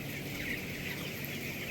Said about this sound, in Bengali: দেখেন কিভাবে পানি খাইতেছে মুরগি।